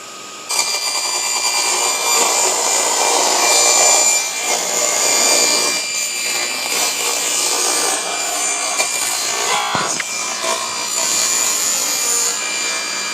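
A saw grinds steadily through a laminate sheet for over ten seconds, a harsh continuous rasp with slight shifts in pitch and pressure, close and loud.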